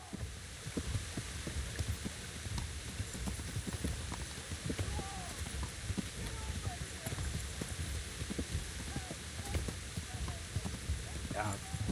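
Steady clip-clop of horse hooves at a trotting rhythm in a medieval Bohemia video game, mixed with game sounds and a low throbbing hum, with a voice talking over it.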